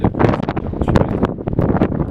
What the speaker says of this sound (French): Il y a un gros vent, donc ça tremble.